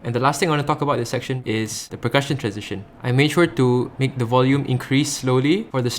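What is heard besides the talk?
No distinct noise like a dog, phone or traffic.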